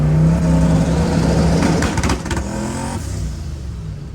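A Camaro engine revs hard and close, then drops back, with a short crackling burst of exhaust pops as it comes off the throttle.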